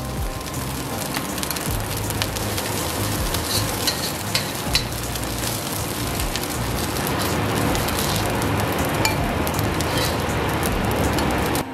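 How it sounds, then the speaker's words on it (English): Fried rice with spring onions sizzles steadily and loudly in a hot pan, a continuous dense frying hiss with scattered crackles and pops throughout. "Now I'm going to put in my spring onions."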